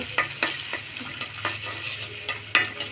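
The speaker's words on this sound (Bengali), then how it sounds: "দেখুন এখন আমি পেঁয়াজ কুচিটা ভালো করে নাড়ব" Chopped onion fries in a pan while being stirred, with repeated rhythmic spatula scrapes over a steady background sizzle, close and without talk.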